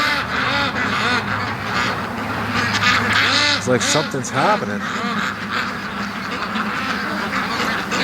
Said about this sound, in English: Now I don't know why this one small group of ducks is back because the rest are down at the lake